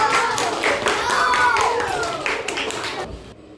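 Elementary school pupils in a classroom clap for a group called up to present. The quick, uneven clapping mixes with children's voices talking and calling out, then stops abruptly at the end.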